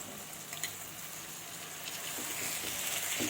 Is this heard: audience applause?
no